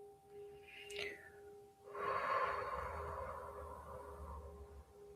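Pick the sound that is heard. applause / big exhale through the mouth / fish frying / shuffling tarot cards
big exhale through the mouth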